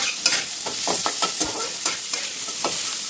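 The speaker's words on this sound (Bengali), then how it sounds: "তারপরে আমি দিয়ে দেবো এই রসুনটা" Peeled garlic cloves sizzle in hot oil with a constant crackling hiss, broken up by several sharp spoon scrapes and stirs in a pan nearby.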